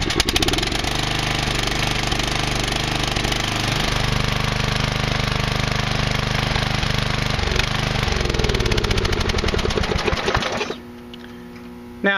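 A hot-wired Briggs & Stratton flat head single-cylinder engine runs steadily and loud up close, with a rapid even firing rhythm for about eleven seconds before cutting off abruptly to near silence.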